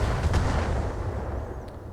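Inferno rounds firing in the modded Battletech (Roguetech) game, a loud, sustained heavy booming rumble with a dense low roar and no voices.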